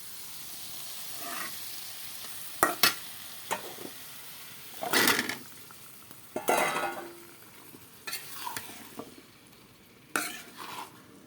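Taro is tipped into a pan of fried, spiced-down shing fish and stirred, giving a low sizzle broken by several sharp spatula scrapes and clatters against the pan at irregular intervals.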